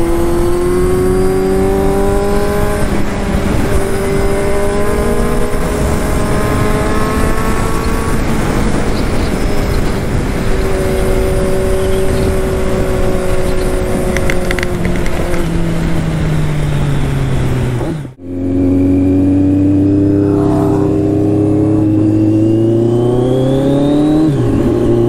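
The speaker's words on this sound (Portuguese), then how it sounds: "Eu acho que tem um quick shift. Dá cada uns estouros quando troca de marcha." A sport RR motorcycle with a quickshifter runs close and loud, its engine note rising and shifting repeatedly through the gears, briefly cutting out before revving hard again.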